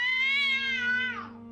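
A single drawn-out cat meow in the video game Déraciné, clear and close, rising then sliding downward as it fades.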